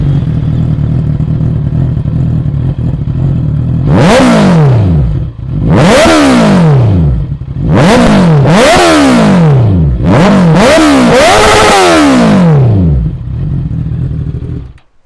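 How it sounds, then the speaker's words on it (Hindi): A Honda CBR 650 motorcycle fitted with an aftermarket exhaust, idling in neutral, then revved hard in four or five loud, close bursts, each climbing sharply and dropping back to a throbbing idle. "प्यारी CBR की आवाज"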